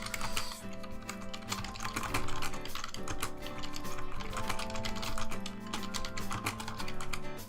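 Rapid computer keyboard typing, a dense continuous patter of key clicks, moderately near and steady, with music-like tonal sound running underneath throughout.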